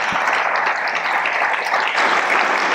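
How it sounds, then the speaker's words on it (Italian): A crowd applauds at an award ceremony in Siena honoring the Senese of the year 2024. The clapping is dense and continuous throughout, with no voices over it. "Facciamo l'applauso."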